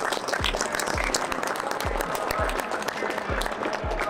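Steady applause from a group at the final team meeting of the Noshiro Kagaku Gijutsu High School (Akita) basketball team after the 2023 Winter Cup, close and continuous for a few seconds with no pauses.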